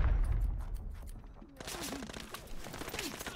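Rapid bursts of gunfire in the video game Arena Breakout, dense and fairly loud, with a brief lull in the middle.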